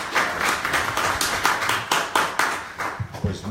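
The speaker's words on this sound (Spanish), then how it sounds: "le pido un fuerte y caluroso aplauso" An audience at a conference gives a round of applause, a dense close patter of many hands clapping that carries on steadily for a few seconds, with no voice over it.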